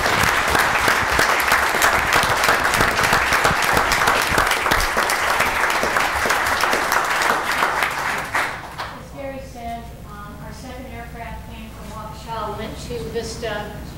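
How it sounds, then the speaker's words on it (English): Loud crowd applause at a city council meeting for about eight seconds, then it fades out and a person begins speaking. "just give a round of applause to the Waukegan Fire Department, please"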